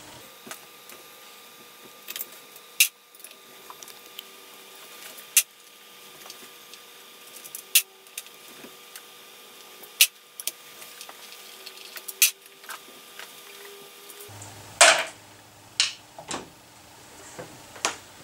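Screwdriver clicks and ticks as T25 screws are undone on the cover of a Bosch Performance Line e-bike motor, with scattered sharp metallic ticks across a quiet background and a louder rattle near the end.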